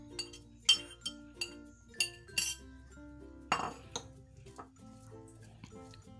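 Fork clinking and scraping against a bowl while mixing a bread, potato and cheese patty mixture with black pepper, green chillies, onion and coriander; a series of sharp close clinks at an irregular rhythm, no talk.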